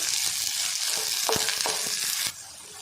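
Soya chunks (meal maker) sautéing with onions for a gravy, a steady close sizzle with a few sharp spoon knocks against the pan, the frying dropping quieter just before the end.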